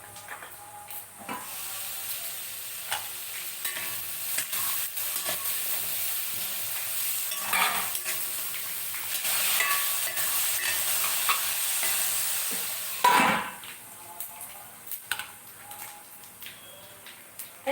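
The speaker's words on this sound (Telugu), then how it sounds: "పోపు అంతా కూడా వేయించి ఈ పచ్చిమిరపకాయలు అలాగే కరివేపాకు కూడా వేస్తాము" Telugu tempering spices with green chillies and curry leaves frying in oil for a village-style cauliflower curry. The sizzling and spattering is moderately loud and swells in bursts over a long stretch, with stirring scrapes and one sharp flare near the end.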